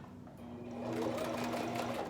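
A sewing machine zigzag stitching the cuff of a puffer jacket whirs up to a steady close running hum after a quiet start, with no talking.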